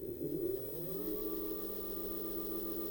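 A Gyroor C1S electric scooter motor winds up at full throttle, a close whirring hum whose tone climbs briefly and then settles into a steady whine.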